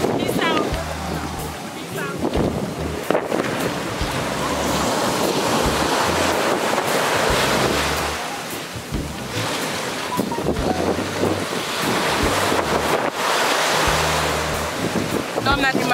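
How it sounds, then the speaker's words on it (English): Loud, churning Jamaican surf and wind roar continuously, waves crashing heavily against a boat with rushing water and buffeting wind noise throughout. "the water is really, really heavy right now"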